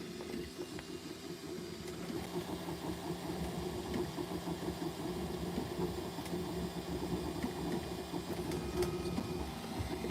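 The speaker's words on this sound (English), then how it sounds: "the 3D printer is going strong right now, printing that" A 3D printer runs steadily while printing a body post for a vintage HPI RS4 nitro RC car, giving a continuous mechanical hum with rapid stepper-motor whirring and no voices.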